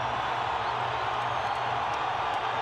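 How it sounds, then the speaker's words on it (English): Sellout stadium crowd roaring for the 10th-ranked Utah Utes hosting TCU in college football, a steady, loud wash of cheering throughout. "Another sellout crowd here to greet their 10th-ranked Utah Utes"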